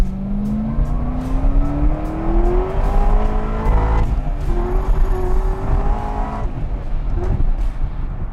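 A 2010 Corvette ZR1's engine climbs loudly toward redline in a long rising rev, then revs again as the tires break loose and squeal briefly, all close and dominant with no talking.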